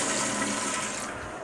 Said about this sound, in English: it flushed all of a sudden.